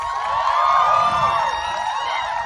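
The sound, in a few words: audience applause at graduation ceremony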